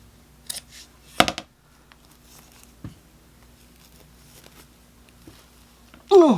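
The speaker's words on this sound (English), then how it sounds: "I'm going to cut a small piece of this off just to have something to play with" Scissors snip through a small piece of polyester-blend fabric, with one sharp close cut followed by a few softer clips and rustles, ending in a loud handling noise.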